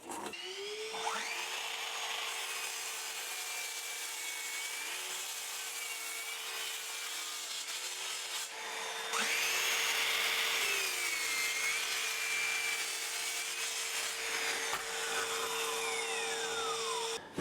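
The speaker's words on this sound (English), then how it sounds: "I'm going to use the miter saw to cut them to length." Miter saw cutting oak boards to length in a workshop: a steady, continuous whine of the spinning blade with two sustained cuts, the second louder and harsher as the blade bites into the wood, running alone without talk.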